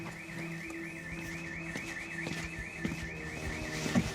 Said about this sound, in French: Première intervention dans une propriété dont l'alarme vient de se déclencher.